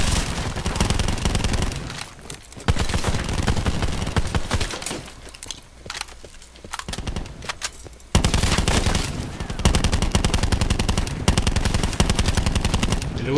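Gunfire in Call of Duty Black Ops 4, loud, close bursts of rapid automatic fire with short pauses between strings of shots.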